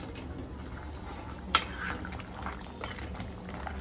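Hot water poured into a simmering Konkan-style crab curry (chimbori kalvan), a quiet, steady liquid rush with one sharp clink partway through.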